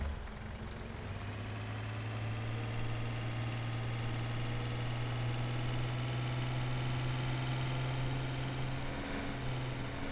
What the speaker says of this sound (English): So let's just fire up the engine.